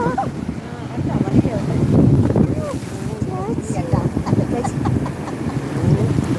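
Rough sea at Vettukadu beach roars with strong wind buffeting the microphone and waves surging steadily, loud and close, while voices chatter faintly underneath.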